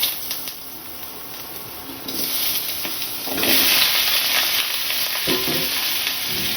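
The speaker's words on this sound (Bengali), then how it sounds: "দিয়ে দেবো এর মধ্যে সবজিগুলোকে একটুখানি হালকা ফ্রাই করে তুলে নেব" Vegetables lightly frying in white oil for a homestyle chicken stew give off a steady, close sizzle that swells louder midway, with occasional scraping stirs.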